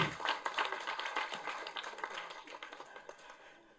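Crowd applause at a Tamil film music launch event for Neduneer, a burst of clapping that starts strong and slowly thins out over a few seconds, with scattered claps and some talk mixed in.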